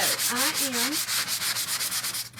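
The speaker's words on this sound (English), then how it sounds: "this is just a Dollar Tree sanding sponge" Steady rhythmic scraping of a Dollar Tree sanding sponge rubbing back and forth on wood, close and loud, with a brief squeaky chirp early on.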